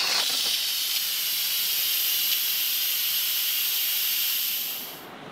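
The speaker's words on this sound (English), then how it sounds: "We're gonna quick release the rest of it." An Instant Pot pressure cooker on quick release vents a loud, steady rush of hissing steam close by for about five seconds, tapering off slightly at the end, with no talking.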